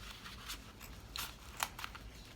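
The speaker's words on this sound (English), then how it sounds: "I'm going to trim off the excess zipper" Scissors snip through excess zipper tape on a sewing project, a few crisp, quiet cuts spaced irregularly over a soft background, close by with no talking.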